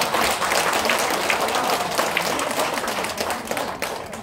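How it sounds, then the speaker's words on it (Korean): Audience applause at a Korean health product seminar, a dense, steady wash of many hands clapping close by, sustained at even loudness throughout with no clear voice over it. "지금 박수 주시면 안 돼? 이 타이밍에 치셔야 돼"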